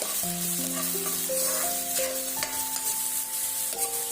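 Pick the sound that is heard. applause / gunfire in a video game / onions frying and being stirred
onions frying and being stirred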